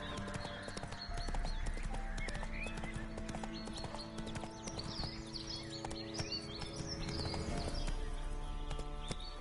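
Roach, a horse in the video game Witcher 3, gallops with rapid rhythmic clip-clop hoofbeats and brief whinnies over a game soundscape with bird calls, steady and fairly close.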